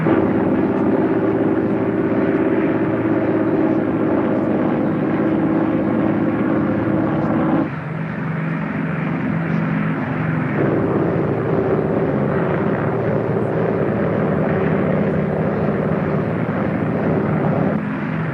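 Propeller airplane engines during takeoff and climb in a Cold War-era transport: a steady, loud, droning roar that shifts tone partway through and holds constant throughout.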